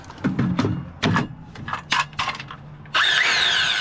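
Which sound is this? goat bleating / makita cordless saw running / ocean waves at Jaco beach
makita cordless saw running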